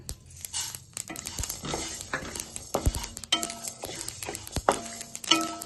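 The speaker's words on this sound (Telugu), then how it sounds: "పల్లీలు ఇలా వేగిన తర్వాత 2 స్పూన్లు నువ్వులు వేసుకుందాం." Peanuts dry-roasting in a pan with sesame seeds added, stirred with a spoon that scrapes and clinks against the metal in an irregular rhythm. A soft hiss runs underneath, and no voices are heard.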